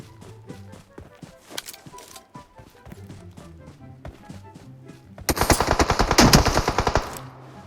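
Automatic gunfire from the PUBG Mobile video game: rapid clicky bursts, then a much louder, dense sustained volley near the end before it cuts off.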